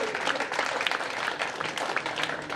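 An audience claps steadily at a cricket festival presentation ceremony, dense continuous applause from many hands at moderate distance, with no voices standing out.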